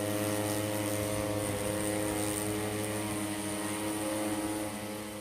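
A disinfectant-spraying drone flies with a steady, loud multi-rotor buzz and whine that holds constant for several seconds, with no talk over it.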